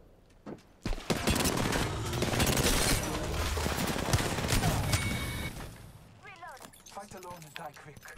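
Rapid automatic gunfire rattles in dense, loud bursts during an Apex Legends battle, a sustained volley lasting several seconds before tapering into scattered shots and game effects.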